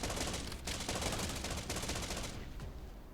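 Rapid automatic gunfire rattles continuously in the video game Infection as a swarm is fended off, loud and close, with a brief break before bursts trail off near the end.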